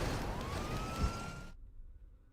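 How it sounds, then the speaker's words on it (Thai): A police car siren in the video game GTA V wails with a rising tone, loud and close, then cuts off abruptly, leaving a faint low hum. "รถตำรวจอะรถตำรวจ"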